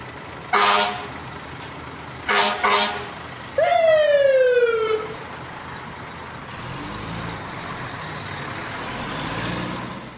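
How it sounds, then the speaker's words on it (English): A fire truck siren with air-horn toots: two short horn blasts, then a single falling wail sweeping downward, followed by fainter traffic rumble. "Their sirens flash and wail to clear the road ahead."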